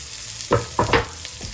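Walnut taco meat browning in a skillet, giving a soft sizzle with a few scraping stirs that come in short bursts, close by and with no talking.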